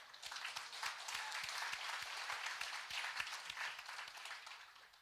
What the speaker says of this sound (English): I think we should give applause on this.